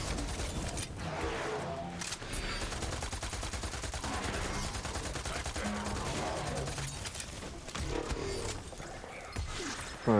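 Sustained Borderlands 3 gunfire from a mini-event trial, with rapid automatic bursts and crashing impacts running continuously and loudly throughout.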